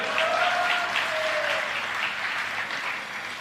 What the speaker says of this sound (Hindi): ताली बजाओ रे।